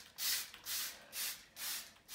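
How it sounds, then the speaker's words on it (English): A spray bottle mists lemon shower cleaner onto a shower panel in four evenly spaced, close, airy hisses, each trigger pull a short burst with brief quiet gaps. "So we'll spray this whole one."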